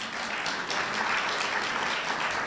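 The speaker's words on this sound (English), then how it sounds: "please give Lieutenant Meeks a round of applause" A round of applause for a police lieutenant at a district community meeting, quiet, steady clapping from a small crowd filling the brief moment without speech.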